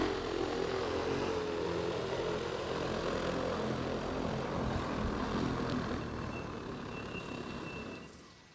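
An EAVision J150 agricultural spray drone comes down in a manual landing over steep terraced fields, its rotors giving a loud, steady broadband whir that eases slightly toward the end.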